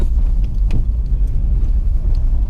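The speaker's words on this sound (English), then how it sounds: "We can do a gear change though." A Citroën Saxo 1.1 driving slowly on a private road, a low steady engine and road rumble from inside the car with a brief dip around a gear change.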